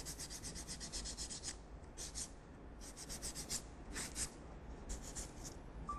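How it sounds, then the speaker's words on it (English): Nail file rasping back and forth across a fingernail to shape it during a nail art lesson, a close series of short scratchy strokes in uneven bursts with brief pauses, no talking. "I put the finger back here, file the shape."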